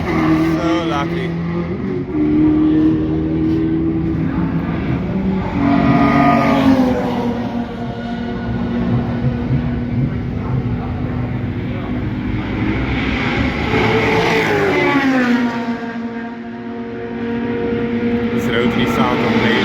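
A race car engine at the Killarney track during a Power Series event revs loudly and close, climbing and falling in pitch several times over a continuous mechanical drone, with people talking at times.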